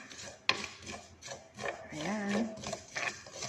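Food being crushed by hand for mixing into rice, a run of scraping and grinding rubs with a sharp tap near the start, close up, with a brief spoken word and a murmuring voice over it.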